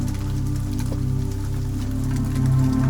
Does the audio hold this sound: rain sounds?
yes